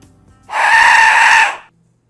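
3D-printed Aztec death whistle blown once, a loud close shrieking, wind-like scream lasting about a second, rising sharply and cutting off, with near silence around it.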